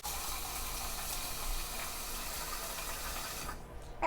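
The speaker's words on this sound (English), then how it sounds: "fill my pot of water" Tap water runs steadily into a cooking pot in a home kitchen, a continuous hiss and splash that cuts off near the end.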